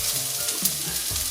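Beef chow fun noodles are stir-fried in a wok, a short burst of close sizzling hiss with a couple of soft tossing thumps.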